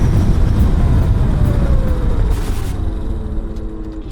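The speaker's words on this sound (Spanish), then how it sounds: "Aquí nuevamente vamos a practicar la frenada de emergencia." A motorcycle brakes hard from speed in an emergency stop practice, a loud rumbling road and engine roar that winds down steadily as the bike slows, with wind noise over the rush.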